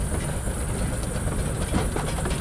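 A steam locomotive on the Romney, Hythe and Dymchurch Railway, a miniature line, runs with a steady rumble and rhythmic rail clatter, heard from close on the footplate and not chuffing hard.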